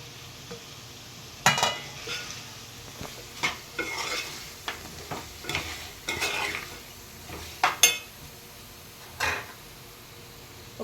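Cashews and spices fry for mutton pulao, a quiet sizzle under repeated sharp clinks and scrapes of a spoon stirring against the pan, close and irregular.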